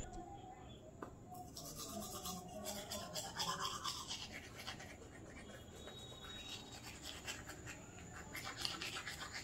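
Toothbrush bristles scrubbing teeth close up in a home bathroom, a steady wet scratching and rubbing that runs throughout in quick back-and-forth strokes, with faint background noise.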